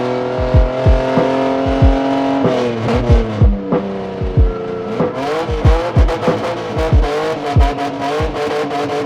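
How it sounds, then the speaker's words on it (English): A 1988 Toyota Cressida silhouette race car's engine revs loud and close in repeated sharp bursts, its pitch climbing and falling in a steady rhythm over a rough idle. "this is my 1988 Toyota Cressida silhouette car"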